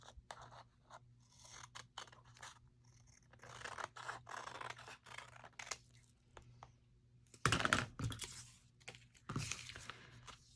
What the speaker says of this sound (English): I'm just going to turn this and just trim this right off as well